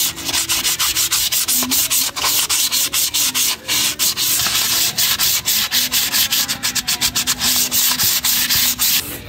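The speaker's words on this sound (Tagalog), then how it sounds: "So ito, kuha po kayo ng liha na magaspang, then lihain nyo po yung kanyang kilid." Coarse sandpaper rubs steadily along the edges of car brake pads, a loud, close, rasping scrape repeated in quick back-and-forth strokes with brief gaps, and nothing else can be heard.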